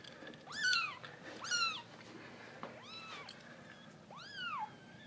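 Young foster kittens meow four times, each a rising then falling high-pitched cry, close up and fairly loud, spaced about a second apart against a quiet room.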